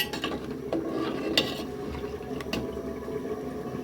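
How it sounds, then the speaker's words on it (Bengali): Spiced mashkalai dal with a catla fish head, cooked without oil and stirred in a pot, with close scraping, clinks and knocks of a spoon against the metal. "এইবার আমি এটা নাড়াচাড়া দিয়ে দিচ্ছি"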